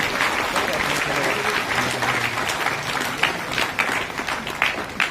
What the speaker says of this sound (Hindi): इनके लिए एक जोरदार ताली दीजिए